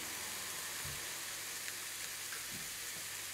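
Tofu and vegetables sizzle in hot sesame oil in a pan, a faint, steady hiss with a few soft pops and no talking.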